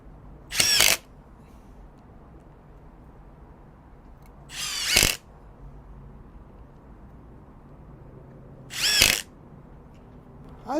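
A Milwaukee M18 impact driver (2953) set to mode 3 drives 1 1/4 inch general purpose screws in three short, loud bursts spaced about four seconds apart, with quiet room noise between them.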